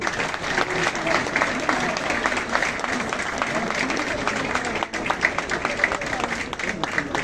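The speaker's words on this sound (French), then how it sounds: "Applaudissez s'il vous plaît" A crowd at a police academy graduation ceremony in Haiti claps in a sustained, even round of applause, with voices audible over it throughout.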